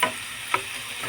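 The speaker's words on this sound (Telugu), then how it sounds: "పోపు కూడా వేగుతుందండి బాగాను" Hot oil sizzles steadily as spices are tempered for upma, with a faint pop or two over the frying hiss, close and brief.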